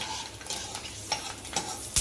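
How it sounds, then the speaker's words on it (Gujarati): Garlic cloves fry in oil in a pan for Gujarati methi dana shaak, a close soft sizzle broken by a few quick stirring scrapes. "મસ્ત આપણું લસણ તળાય છે"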